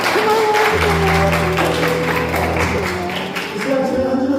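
Church congregation applauding at a Parents' Day Sunday service, a broad steady wash of many hands clapping that fills the room at constant loudness, with a low sustained organ or keyboard tone underneath.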